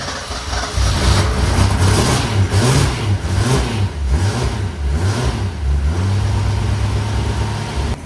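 A 1962 Ford Ranchero engine cranks, catches and settles into a steady running idle with a few revs, loud and close with no talk over it.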